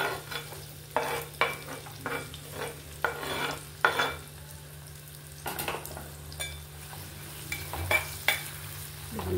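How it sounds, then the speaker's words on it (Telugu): Onions and green chillies frying in hot oil in a clay pot, with a steady soft sizzle under repeated scraping stirs and occasional clinks of the spoon, close by and without talk. "ఉల్లిపాయలు ఫ్రై అవుతున్నాయి కదా"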